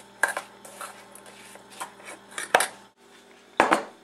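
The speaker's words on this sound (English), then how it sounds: "we can quickly spoon our vegetable mixture into the casserole dish" Vegetable mixture for a shoepeg corn casserole being spooned into a casserole dish, with several clinks and scrapes of a spoon against the dish at an irregular pace, no talking.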